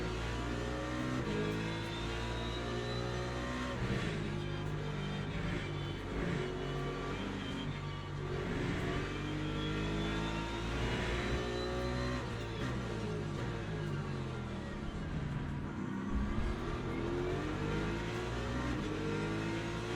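Race cars in a racing video game, several engines droning and revving together in a dense, continuous roar with shifting pitches as cars accelerate and pass, steady and moderately loud with no talk.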